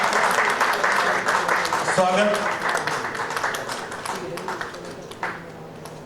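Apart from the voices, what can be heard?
audience applause at book launch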